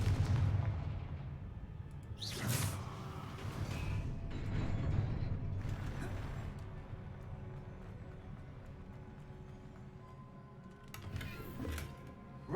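Fiery Confringo spell blasts from the Hogwarts Legacy video game, a few sharp explosive bursts with rumbling low booms over a steady game-world background, loud and close.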